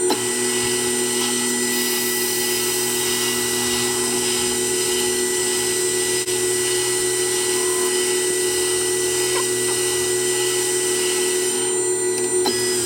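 A Myford Super 7 lathe faces off a steel engine top cap, a steady machine drone with a constant motor whine and cutting hiss running unbroken and fairly loud throughout.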